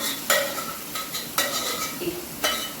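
A spoon scrapes and clinks against a pot as a toor dal and peanut mix is stirred into cracked-wheat khichdi, a few distinct strokes roughly a second apart over a soft sizzle, with no talk.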